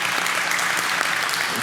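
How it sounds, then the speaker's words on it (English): Brief, steady audience applause for Trevor Robinson OBE after a talk, a close continuous wash of many clapping hands. "so a round of applause, Trevor."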